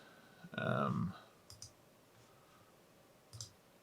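A computer mouse gives a few sharp, quiet clicks, spaced apart, after a brief burst of a voice, in a quiet room.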